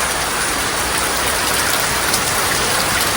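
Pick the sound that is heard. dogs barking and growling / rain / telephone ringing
rain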